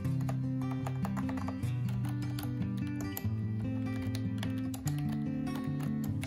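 A quiet wireless computer keyboard is typed on steadily, with rapid, even key clicks running continuously over a low tonal hum in the background.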